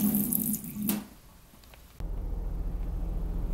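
Running water pours from a tap into a container, a hissing rush that pauses briefly, then resumes as a steadier, lower gurgling flow, close and alone.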